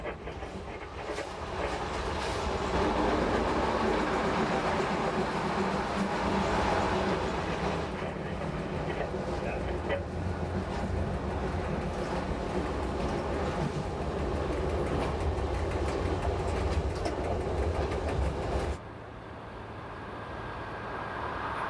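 An SBB train runs down the valley northward on the Gotthard railway line in Switzerland. It makes a continuous rumbling clatter that drops in level near the end.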